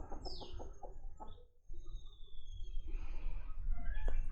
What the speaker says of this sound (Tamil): இந்த கோழி கத்துது இல்லை